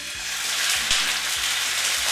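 Goat pieces deep-fry in hot oil, giving a steady, close sizzle with a constant hiss and scattered small bubbling pops throughout.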